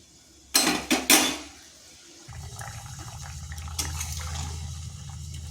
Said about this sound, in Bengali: এরপর এটাকে 2 থেকে 3 মিনিট একটু ফুটিয়ে নিচ্ছি